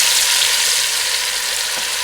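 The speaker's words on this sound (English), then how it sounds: "Okay, I'm now placing my oxtail into the oil." Pieces of oxtail fry in hot oil for a Jamaican oxtail stew, making a loud, steady hiss and crackle close by, with no talking.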